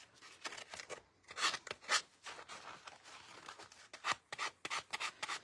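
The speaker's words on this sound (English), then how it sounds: "I'm just sanding this bit down." A resin-coated wooden cross is sanded down by hand in short, irregular rasping strokes, close and fairly quiet, with brief pauses between bursts of rubbing.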